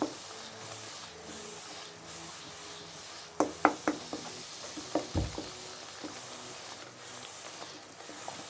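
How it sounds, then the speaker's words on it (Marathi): Masala spices fry quietly in a pan as a soft, low sizzle, with a burst of close spatula scrapes and knocks against the pan in the middle. "मसाला फ्राय होतोय"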